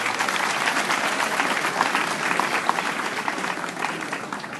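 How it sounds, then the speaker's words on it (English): A graduation ceremony audience gives a dense, steady round of applause that holds at an even level for several seconds before easing slightly at the end. "Shall we give Zoom Lion a round of applause?"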